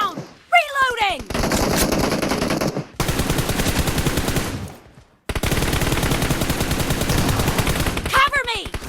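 Sustained automatic gunfire in PUBG / BGMI, rapid loud bursts filling most of the stretch, broken by brief pauses and short whooshing game effects at the start and end.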